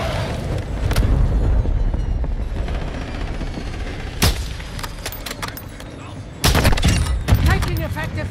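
Gunfire in a military multiplayer shooter video game, with rapid bursts and booming shots, loud and close, mixed with radio chatter and in-game voices.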